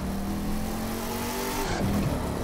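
Car engine revving steadily in The Crew 2 racing game, a loud, sustained motor drone with rising pitch and a brief shift near the end, alone without talk.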